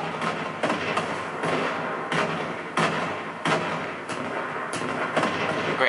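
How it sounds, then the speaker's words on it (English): Repeated heavy booms from mid-air explosions in Battlefield Bad Company 2, about eight thudding blasts at irregular intervals roughly every half second to second, loud over a continuous rumbling battlefield din. "Great, now we got mid-air explosions."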